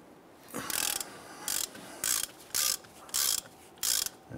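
A 1/2 inch drive ratchet loosening knuckle bolts on a 1999-2004 Jeep Grand Cherokee during a wheel bearing job, six quick bursts of clicking at a steady pace, close and fairly quiet, with no talking.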